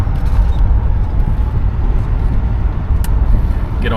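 A 1968 Oldsmobile Delmont 88 cruising at about 40, heard from inside the cabin as a steady low road and engine rumble with a brief creak near the end.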